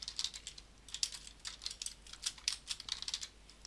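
Java code being typed on a computer keyboard, a quick, fairly quiet stream of crisp key clicks in uneven bursts, heard alone without talk.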